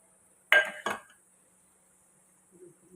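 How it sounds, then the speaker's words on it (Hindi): A utensil clinks against a pan while besan halwa with eggs, milk and sugar is stirred over low heat. Two sharp metallic clinks come close together, then near silence, then a faint scrape at the end. "हिलाते रहना, इसको रोकना नहीं आपने।"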